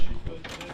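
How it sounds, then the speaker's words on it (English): Rusted bolt being worked loose from the fender of an HJ75 Holden during restoration, a short mechanical creak and grind with ratchet-like clicks, close and fairly loud. "Here's us removing said bolt on the fender."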